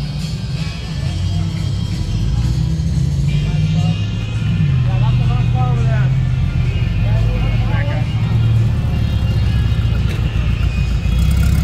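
A car rolls in to a car show at Sycamore Inn on Route 66 in Rancho Cucamonga, California, with a steady low engine rumble and a few revs. It stays close and loud throughout, and people talk over it.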